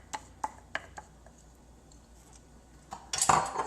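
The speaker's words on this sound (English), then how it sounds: "And now in go our wet. The peanut butter and the rice syrup and the oil." Spoon scraping and clinking against a mixing bowl as peanut butter, rice syrup and oil go in for peanut butter cookies, a few sharp taps spaced apart, then a louder burst of scraping at the end.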